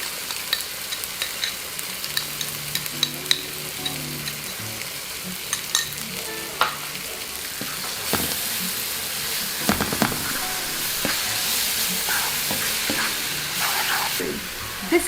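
Coconut, fenugreek and coriander spice paste fries in a pan for a shrimp dish, giving a continuous loud sizzle with scattered pops and sharp crackles that swell stronger midway and hold there.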